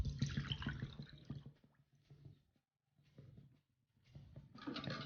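Water poured onto sugar in a pan on the stove for Turkish delight, splashing and trickling in bursts with brief pauses between pours.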